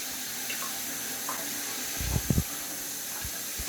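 Tap water runs steadily into a sink while a braided wig is soaked, a constant hiss with a few louder splashing gurgles near the end.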